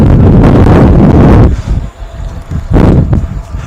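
Strong wind blasts across an outdoor truck show at MATS 2022, where a tuned white classic Mack B is on display, roaring loud in two heavy gusts with a calmer, rustling lull between them.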